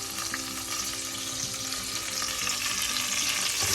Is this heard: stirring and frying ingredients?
yes